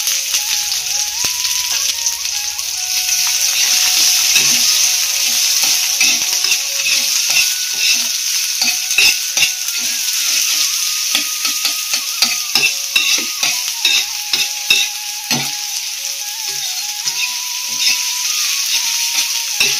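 Onion and green chilli frying in hot oil for a cabbage dish, with a steady loud sizzle and rapid scraping stir strokes of a spatula against the pan throughout.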